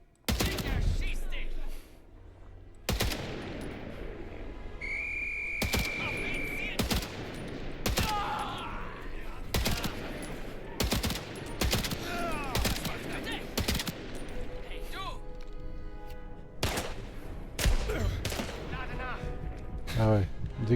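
In the Indiana Jones and the Great Circle game, an enemy shoots at the player in repeated loud, sharp gunshot bursts with quieter in-game sounds and effects between volleys.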